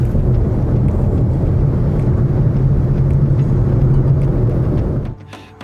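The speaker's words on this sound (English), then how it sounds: "I keep on thinking I can hear engine noise, but it's not this car, it's the big Ram truck next to me" A big Ram pickup truck's engine idles nearby, a steady low rumble heard from inside a quiet electric car, fading sharply near the end.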